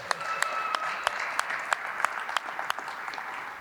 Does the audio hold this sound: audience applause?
yes